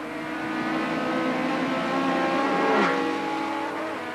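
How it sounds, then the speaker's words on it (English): A Toyota modified race car at Killarney circuit in 1993, trailing smoke from a problem at the rear, its engine droning loudly and steadily as it slides around, rising to a brief peak as it passes close. "The Toyota is skittering around all over the track."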